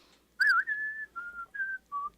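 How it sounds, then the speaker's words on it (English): Someone on a live morning broadcast whistles a short tune, a clear thin tone rising and then holding through four or five brief notes, near and fairly soft, with no talking. "trying to do the whistle"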